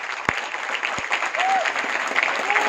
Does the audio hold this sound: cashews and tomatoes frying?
no